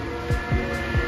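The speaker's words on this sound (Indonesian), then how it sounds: "Ini suara kipas depan ya." Car radiator electric extra fan of a twin-fan setup running at high speed, a steady loud whirring hum with a few brief low thumps, no talk.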